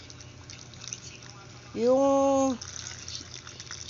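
Water poured into a cooking pot of tulingan fish with vinegar, chili and kamias, a short rising burble of under a second, with a voice talking before and after.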